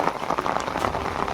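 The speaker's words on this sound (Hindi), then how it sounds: "तो ये अभी से बारिश का नज़ारा है यहाँ से।" Steady rain falls on a farm after a downpour, with buffalo resting nearby; a dense, even hiss of drops patters continuously on surfaces, close and moderately loud with no voices.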